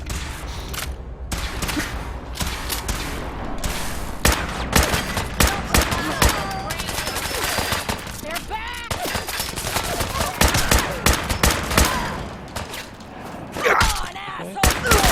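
Gunfire in the video game Fallout 4, rapid bursts of shots and fusillades, loud and close, repeating in clusters over continuous game noise, with brief talking in places.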